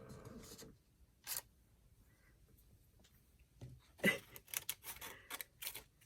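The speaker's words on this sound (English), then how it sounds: "It's going to be noisy because I need to tear this." Paper tearing up close at a journal desk, faint, in a few short ripping bursts separated by quiet gaps, with a louder cluster of rips and crinkles near the end.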